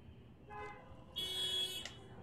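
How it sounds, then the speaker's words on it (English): Faint car horns toot outside, one short honk followed by a longer, louder blast, with a low background hum. "Sorry if you hear honks outside."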